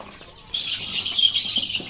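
Domestic desi chickens clucking and fussing as they are fed poultry feed mixed with broken rice; the close, busy flock noise rises suddenly and stays steady throughout.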